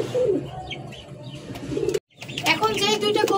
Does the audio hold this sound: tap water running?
no